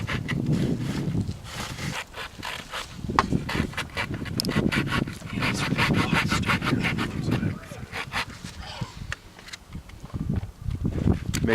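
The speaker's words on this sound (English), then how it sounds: "here we have Travis Henry giving Lee Ralph a little bit of instruction on the bow drill fire method." Rhythmic back-and-forth rubbing of wood on wood from a bow drill making fire, a raspy sawing scrape repeating steadily and close by, with brief pauses between strokes.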